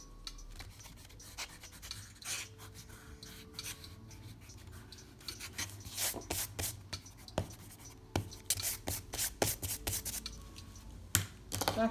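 Pencil sketching and erasing on paper while drawing a cartoon figure, heard as scratchy strokes and brisk rubbing bursts that grow denser and louder toward the end, close up with no talk.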